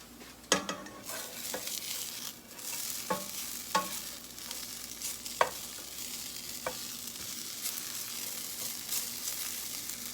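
Potatoes frying in a pan for breakfast hash browns, a continuous close sizzle with a handful of sharp stirring scrapes and knocks early on, then steady frying alone.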